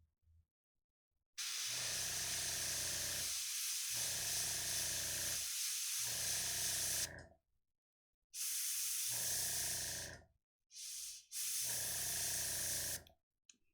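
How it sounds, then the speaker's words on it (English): Airbrush spraying paint onto a miniature rock golem, steady hissing bursts of several seconds each separated by short pauses, then shorter spurts near the end, close and fairly loud. "You may be able to tell by the sound I'm timid when using my airbrush."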